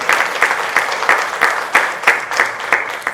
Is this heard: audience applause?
yes